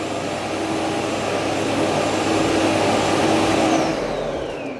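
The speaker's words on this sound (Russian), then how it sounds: "О, загудел. Перекачивает мусор из пылесоса в док-станцию, то есть в мусорный мешок" A Roborock S8 MaxV Ultra dock station sucks debris from the robot vacuum's dustbin into its bag with a loud, steady, close-up roaring whoosh that winds down at the end.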